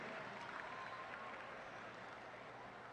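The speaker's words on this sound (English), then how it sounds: "Parents and guardians, please give yourselves a round of applause as well." Faint, steady applause from a large audience at a high school graduation ceremony, a distant wash of clapping held at an even level throughout.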